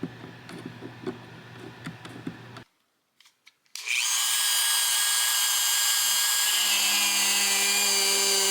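A power drill works on a 1957 Gretsch 6120 guitar: some clicking and handling noises, a brief quiet pause, then the drill spins up into a loud, steady high whine that continues to the end.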